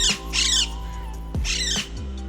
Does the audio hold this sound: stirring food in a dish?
no